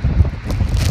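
Wind buffeting a microphone outdoors on a cloudy day beside a solar panel, a brief low rumbling gusty roar, close and steady, no talking.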